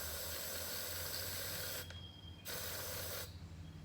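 Spray paint can hissing steadily as paint is decanted into a container, a loud continuous spray close by that cuts out briefly twice before resuming.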